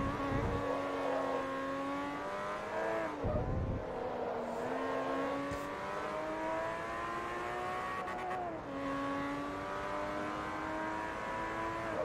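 A race car's engine in Forza Motorsport 3, driven from the interior camera on a Class S Euro Tour, roars loud and steady, rising through gears with sharp dips at shifts and revving back up alone without talk.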